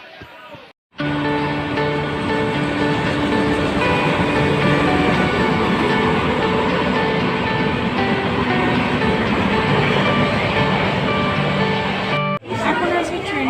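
A Bandel local commuter train near Srirampur rolls along the rails with a loud, steady rumble and rhythmic clatter for most of the stretch, dipping briefly at the start and near the end, with faint background chatter.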